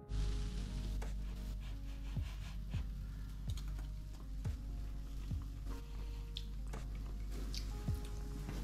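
Someone chews fried buffalo worms, a quiet, close series of soft crunching bites repeating at an even pace over a steady low background hum.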